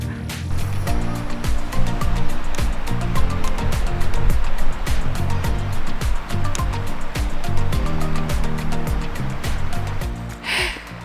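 Sea waves roll in at a west coast campsite, a loud, continuous wash of surf with repeated crashing bursts and hissing spray, close by and without talk.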